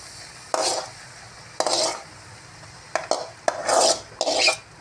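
Spoon stirring cooked radish in a pan, a series of short scraping and rubbing strokes against the metal with a few sharp taps, close and moderately loud, with no talking.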